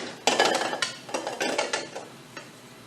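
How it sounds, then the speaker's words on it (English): Thick peanut butter and sugar being worked together with a utensil in a bowl, giving a run of close, scraping clinks and knocks in an uneven rhythm that grows sparser toward the end. "That's, again, just the peanut butter and the sugar. We'll get that mixing. It's a little tough."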